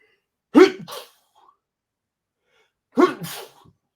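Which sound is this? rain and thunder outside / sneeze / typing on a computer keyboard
sneeze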